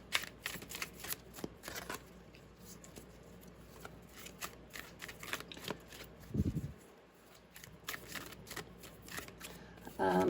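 Tarot cards shuffled by hand in a run of crisp riffling and slapping bursts over about ten seconds, close and moderately loud, with a brief low thump near the middle.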